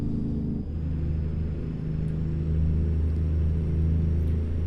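Steady low diesel drone of a Kenworth W900 semi truck in American Truck Simulator, running with a modded engine and aftermarket sound pack, holding a constant rumbling idle-to-cruise tone with a slight shift partway through, heard alone without talk.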